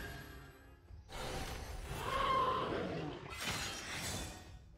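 Glass shattering sound effect in the card game Shadowverse, a bright crashing burst of breaking glass followed by a second shimmering smash, fairly quiet.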